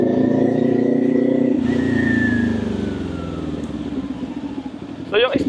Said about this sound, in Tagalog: Ang lakas ng pipe. Naka SC Project Pipe nga pala to.